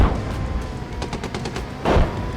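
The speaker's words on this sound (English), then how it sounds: "And I do hear our artillery hitting." Artillery fire hits in the PC combat game Gunner HEAT: a rapid series of sharp impact bursts in quick succession, followed by a louder, heavier blast near the end, over steady background rumble.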